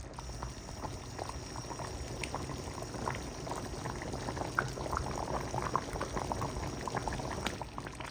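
Arroz caldo boiling in a pot, a continuous close bubbling and gurgling that keeps up steadily without a break.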